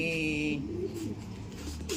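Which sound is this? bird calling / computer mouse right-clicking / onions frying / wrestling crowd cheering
bird calling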